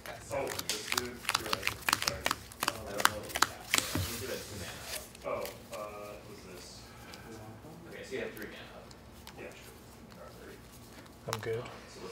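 Quick bursts of card shuffling from a 40-card Magic: The Gathering deck at a Dominaria United prerelease, several sharp riffles early on, then quieter handling with people talking nearby.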